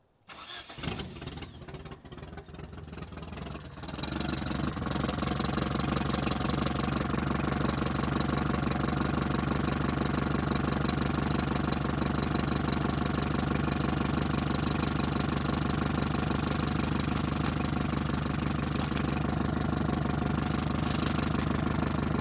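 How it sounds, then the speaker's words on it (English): An abandoned 1973 Toyota Hilux, running on a little fuel in the carburetor bowl, cranks for a few seconds, catches, then settles into a loud, steady, uneven idle that runs on without any talk. "Now let's see if this thing fires up and stays running for any amount of time with a little bit of fuel possibly in the carb bowl."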